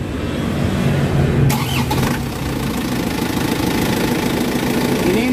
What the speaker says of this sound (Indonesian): saya nyalakan dulu mesinnya ya